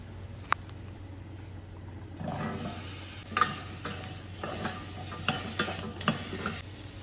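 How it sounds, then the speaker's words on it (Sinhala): Bitter gourd stirred and frying in a pan with spices such as cinnamon, a soft steady sizzle under repeated scraping stir strokes, louder after the first two seconds. "දැන් මේ ටික මේ විදිහට බැදීගෙන එනකොට කරවිල ටික දාලා හොඳට කලවම් කරගන්න ඕනේ"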